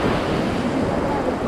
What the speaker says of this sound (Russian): Да, волны хорошие у нас сегодня